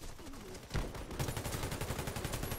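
Rapid automatic gunfire from the video game Warface, a dense burst of shots rattling continuously after a brief lead-in, loud and close, with no talking.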